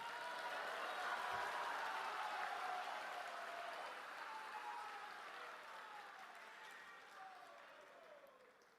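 A large audience at a religious gathering attended by India's Prime Minister applauds, a dense sustained round of clapping that slowly fades in strength, with a few voices mixed in.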